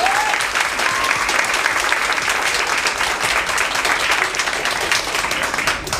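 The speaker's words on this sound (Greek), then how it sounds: "Και εδώ θα δείτε να βάλουμε άλλο χειροκρότημα." An audience at a book presentation claps loudly and steadily, a dense sustained wash of applause close by, with faint voices underneath.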